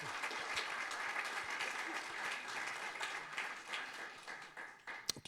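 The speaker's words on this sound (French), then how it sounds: "Vous pouvez applaudir." A conference audience applauds after a talk on PostgreSQL Anonymizer, a dense, sustained round of clapping from many hands that thins and tapers toward the end with a few final claps.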